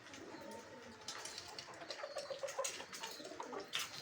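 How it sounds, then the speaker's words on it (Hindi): Pigeons coo in a low, rolling murmur amid a busy ambient background, with a few light ticking sounds scattered through. "जो काला जो है ये गोला कबूतर है"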